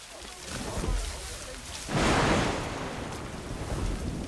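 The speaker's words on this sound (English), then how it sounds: "The storm's getting worse." Stormy weather in the Assassin's Creed Rogue video game, with a steady wash of rain and a loud rumbling thunder burst that swells near the middle before settling back into the continuous roar.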